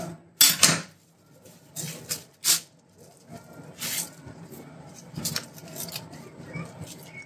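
A knife slices through a piece of food on a board with a few sharp, close cuts, followed by quieter scraping and handling at a steady, unhurried pace.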